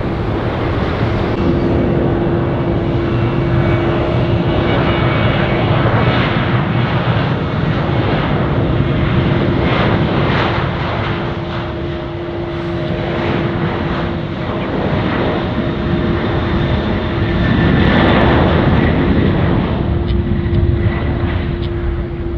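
A fuel-heavy jet airplane takes off at Tampa International Airport, a loud, steady engine roar with a sustained whine that holds throughout and swells slightly near the end, without talk.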